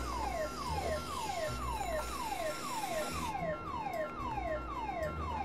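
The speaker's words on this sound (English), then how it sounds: "that alarm is going crazy" A car alarm in the video game Lego DC Super Villains wails on and on in fast, repeating downward sweeps, loud and steady, over a constant background of game noise.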